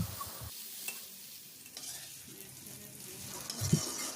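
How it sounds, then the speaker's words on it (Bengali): Pointed gourd tossed with onion, green chili and garlic in a little oil, a soft steady sizzle under intermittent stirring scrapes and a clink near the end, close and quiet with no talk. "এখন পটলের সাথে পেঁয়াজ, কাঁচামরিচ ও রসুন কুচিগুলো খুব ভালো করে মিশিয়ে নিয়ে ভাজা ভাজা করে নিচ্ছি"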